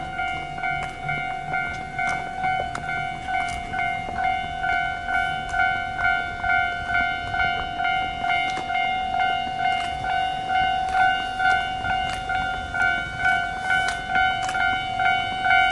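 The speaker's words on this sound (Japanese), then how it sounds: "列車通過しますんでね。" A train passes a Japanese railway line with a steady droning motor whine and a rumbling roll, punctuated by regular clacks from the wheels, sustained and fairly close throughout.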